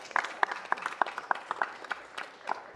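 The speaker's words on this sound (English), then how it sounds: "I heard some claps." Scattered applause from a city council meeting audience, a handful of separate claps spaced irregularly over a few seconds, fairly quiet and without voices.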